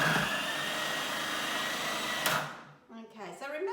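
Magimix food processor slicing an onion into rings: a steady loud motor whir with blade chatter that cuts off after about two seconds, followed by a brief voice.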